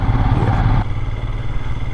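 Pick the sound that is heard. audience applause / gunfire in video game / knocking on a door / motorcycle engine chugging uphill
motorcycle engine chugging uphill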